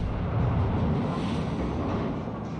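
A warship blowing apart in World of Warships: a loud, sustained rumbling blast with dense low-end roar and crackle, holding steady for nearly three seconds before easing slightly.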